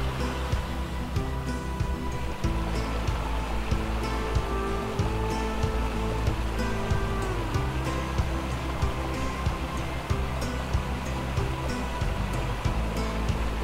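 A river and waterfalls flowing through wild territory in the video game ARK, a continuous rushing wash of water with a layered, churning texture, steady and fairly loud throughout.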